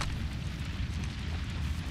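A grenade explosion in the Mirage video game, a sustained low rumbling blast with crackling debris, steady and fairly loud throughout with no voices over it.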